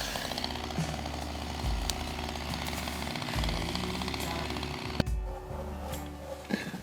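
A chainsaw fells an unhealthy tree rooted among concrete slabs. The engine roars loud and close with a rough rattling bite into the wood, revving and easing several times, with a sharp crack about two-thirds of the way through.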